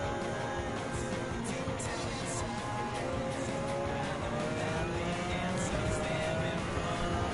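A 1995 short-tail BMW McLaren F1 race car in Gran Turismo 7, its engine droning steadily at high revs with rising and falling pitch through a lap, continuous and fairly loud.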